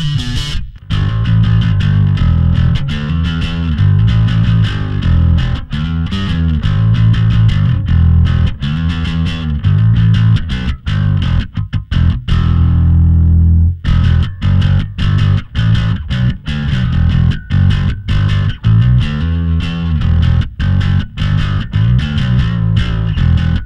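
Darkglass DG210A combo with M500 head produces a dense, distorted bass drive tone, a continuous loud gritty riff with strong low end and rhythmic note attacks throughout.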